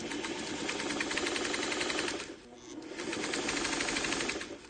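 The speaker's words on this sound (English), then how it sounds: "sew the next row to it in the opposite direction." A sewing machine stitches quilt rows in a fast, steady mechanical chatter, close and loud, pausing briefly midway before running on again at the same pace.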